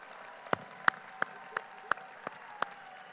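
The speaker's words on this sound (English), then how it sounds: "please give them a round of applause at this time, please." Scattered, sparse claps from an audience at a high school graduation ceremony, a handful of distinct sharp hand claps spaced out over a faint room hum.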